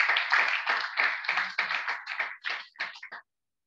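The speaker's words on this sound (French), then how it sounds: "Je voudrais que vous applaudissiez pour vous-même," A small audience at a motivational talk claps in a brisk run of distinct, close handclaps for about three seconds, then stops abruptly.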